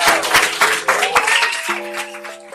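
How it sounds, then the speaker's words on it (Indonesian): An audience at an Indonesian event claps for a young participant who has just recited the Pancasila, a dense patter of hand claps that gives way to steady sustained music tones partway through. "Tepuk tangan dulu dong buat Kaniken ini."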